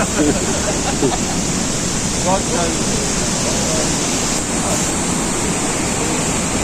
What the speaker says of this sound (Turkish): Evet arkadaşlar şelalelerin alt tarafları bu şekilde. Karşıdan yine sular süzülüyor.